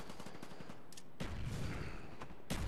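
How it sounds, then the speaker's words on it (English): Quiet bursts of gunfire from Call of Duty Black Ops on the Nuketown map while shooting at an enemy, a few rapid rattling volleys at low level with no talk. "I am shooting at this guy"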